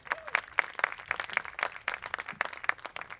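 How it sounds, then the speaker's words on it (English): An audience applauds at a film premiere, with fairly faint, rhythmic clapping that keeps up steadily throughout. "Huge round of applause for them"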